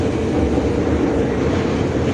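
A train passes near Pakenham East station in Melbourne with a loud, continuous low rumble and rail noise that stays steady throughout, with no talk.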